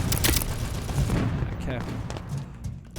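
Rapid gunfire bursts from Sector's Edge, a voxel first-person shooter, loud and dense at the start and continuing as repeated shots and impacts throughout, with background game noise.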